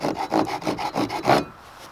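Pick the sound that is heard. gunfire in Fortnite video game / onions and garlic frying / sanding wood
sanding wood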